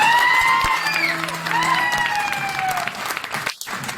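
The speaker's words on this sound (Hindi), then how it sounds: "एक बार मैं जोरदार तालियां।" Hearty applause and some cheering from an audience at a business gathering in a Ludhiana trade centre, sustained and fairly loud, with a few tonal whoops or whistles rising through the crowd noise.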